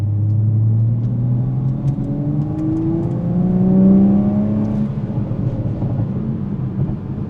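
A 2020 Toyota Supra 3.0 GR with the B58 engine accelerates in sport mode. A loud, steady interior engine drone rises and climbs in pitch, swells around the middle and then holds, with no talking.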